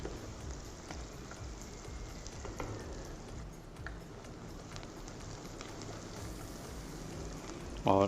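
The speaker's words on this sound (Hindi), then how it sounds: "इनको हम भून लेंगे 3 से 4 मिनट" Onions and kalonji seeds fry in a pan, giving a faint, steady crackling sizzle with scattered small pops throughout, close by and with no talk.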